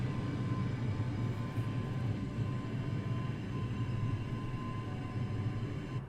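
Airbus A320neo in a flight simulator game, a steady low engine rumble with a faint tonal whine, constant and unbroken throughout.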